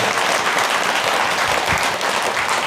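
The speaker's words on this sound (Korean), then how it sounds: "그리고 우리 모두를 위해서 큰 박수 부탁드립니다" Loud, dense applause from a pilgrimage group during a Dharma talk at Cheongpyeongsa temple in Chuncheon, many hands clapping steadily and evenly for the whole stretch.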